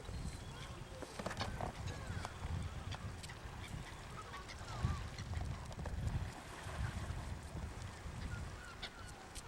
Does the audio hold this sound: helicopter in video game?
no